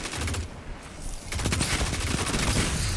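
SMG fire in the Destiny video game rattles in rapid bursts, a dense crackling fusillade that drops out briefly, then resumes louder and continuous, close and prominent.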